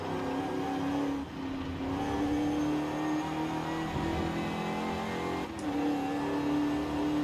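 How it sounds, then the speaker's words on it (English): A classic Shelby GT500 in Forza Horizon 5 drones steadily up close, its supercharger and transmission whining in a constant high tone over the engine, with two brief dips in power as it runs. "A bit of whine from the supercharger, a little bit of whine from the transmission though."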